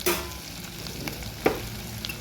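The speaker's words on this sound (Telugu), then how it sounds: "ఇప్పుడు వంకాయ ముక్కలు వేసుకున్నాం" Eggplant pieces fry in a pan for a Telugu-style eggplant curry cooked with fish. A steady close sizzle runs throughout, broken by a few sharp scrapes or stirs, with no talk.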